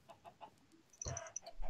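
A Minecraft chicken gives a short, faint cluck in a quiet game scene, after a few soft low taps.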